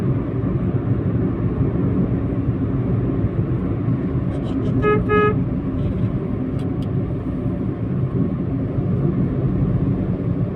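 Car horns honk in Indian traffic: a short cluster of toots rises over a constant low rumble of engines and road noise, with speech heard in the background.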